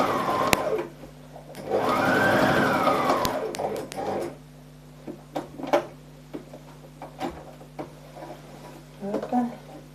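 A sewing machine stitches fabric in one short burst of close mechanical whirring, then falls silent amid soft handling clicks and rustles.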